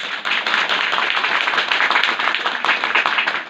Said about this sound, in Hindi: तालियां बजाओ एक बार।